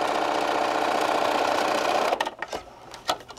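Sewing machine stitching the bottom seam of a fabric bunny bag, a close, steady, rapid mechanical whir for about two seconds, then stopping, followed by a few faint handling clicks and thumps.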